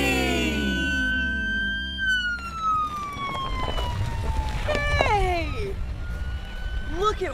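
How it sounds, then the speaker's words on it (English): A police car siren wails with long falling sweeps, loud and close, alongside busy background noise and a few shorter swooping tones toward the end. "Yeah, it's a police car."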